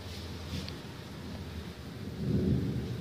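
Heavy rain pours onto a street in a steady, dense hiss with a low rumble that swells near the end, heard alone without talk.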